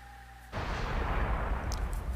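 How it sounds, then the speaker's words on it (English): A loud in-game explosion from Naruto Storm 3, set off by a deer, bursts in suddenly after a quiet moment and roars on as a sustained, rumbling blast. "Did anyone else hear the explosion that deer caused?"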